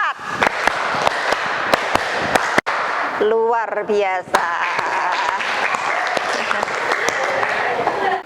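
Sharp hand claps ring out in a counted classroom clapping pattern of grouped beats, briefly interrupted by a short spoken exclamation before the clapping resumes.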